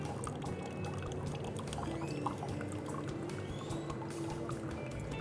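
Water poured in a circular motion over ground coffee in a filter cone for filter coffee, a steady soft trickle and splash running continuously and close by, with no talk.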